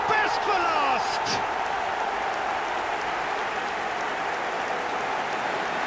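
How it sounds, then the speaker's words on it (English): Steady applause and crowd noise from an eFootball 2025 football match, a constant broad roar that carries on beneath a commentator speaking after a goal. "Even some of the opposing fans are clapping that."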